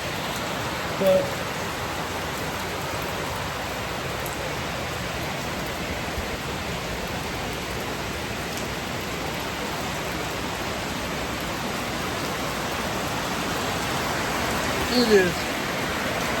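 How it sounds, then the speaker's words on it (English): Heavy rain pours down on a street in the Philippines that is already flooding, making a steady, loud, even hiss throughout with a brief voice speaking over it. "You've got to see just how crazy this rain really is."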